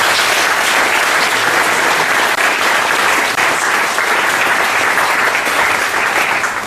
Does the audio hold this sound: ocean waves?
no